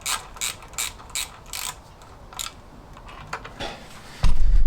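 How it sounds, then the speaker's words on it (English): Ratchet wrench clicking as new nuts and washers are lightly tightened on a classic Fiat 500 engine, several short bursts of clicks with pauses between, close and clear, ending in a louder thump. "So these are all new nuts and washers. Just gonna lightly tighten these first."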